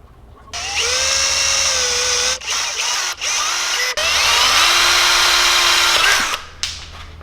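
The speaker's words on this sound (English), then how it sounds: "While the bait's flat, I need to carve around that eye socket." Small power carving tool cutting around the eye socket of a handmade fishing bait, a loud close high-pitched whine that rises and drops in pitch with load, stopping briefly several times between long runs.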